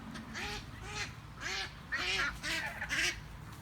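Several loud duck quacks come in a quick, uneven series, close and clear against quiet background.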